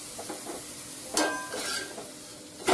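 Missi roti pressed and roasted in ghee on a pan, soft sizzling under a few scraping presses and clinks of a spatula, close and quiet.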